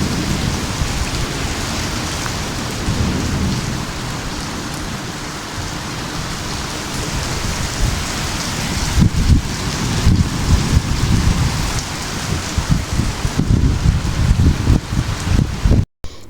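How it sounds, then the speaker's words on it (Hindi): Heavy stormy rain with gusting wind pours down outdoors in a loud, continuous roar, with deeper rumbling gusts swelling in the second half before it cuts off abruptly. "अभी जो आपने सुनी ये रियल रेन वॉइस थी"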